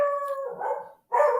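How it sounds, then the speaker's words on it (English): A dog indoors gives two drawn-out, tonal barks, close to a howl, separated by a brief silence. "The dog's barking."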